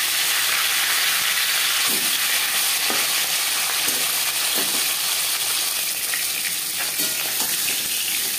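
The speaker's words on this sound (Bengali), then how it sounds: "প্রথম ব্যাচে মাছ ভাজা হয়ে গেছে" Steady loud sizzling and crackling of rohu fish frying in hot oil, with occasional soft clinks and stirs, no voices.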